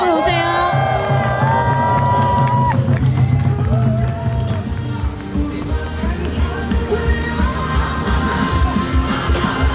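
Crowd at an outdoor ceremony declaring the permanent shutdown of the Hanbit Unit 1 nuclear plant in Yeonggwang, with cheering, whoops and shouts over a dense murmur, plus some musical tones early on and voices mixed throughout.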